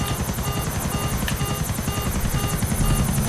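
A helicopter in the video game Grand Theft Auto 4 drones loudly and steadily, its rotor chop pulsing evenly and close up throughout, with no talking.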